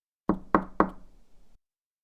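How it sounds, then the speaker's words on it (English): Three sharp knocks on a door land in a quick, evenly spaced row, close and loud, each ringing briefly, with a faint rattle trailing after and silence around them. "If you hear 3 knocks"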